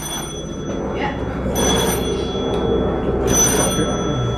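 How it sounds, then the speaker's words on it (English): A level crossing warning bell at Stogumber on the West Somerset Railway rings in repeated bursts, fairly clear over low rumbling background noise, with a brief spoken word. "No, that's the warning bell for the train."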